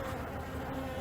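Honey bees buzz at the hive as workers haul out a dead drone, a dense, steady humming drone close by with no voices.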